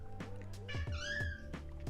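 A real cat meows repeatedly in a drawn-out, insistent way, fairly faint against a steady low hum in the room.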